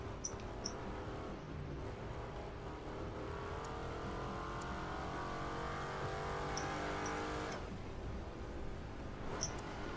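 A racing car drifts around corners in the video game The Crew 2, its engine droning steadily with gently rising and falling pitch as it holds revs, plus occasional faint clicks, fairly quiet and continuous.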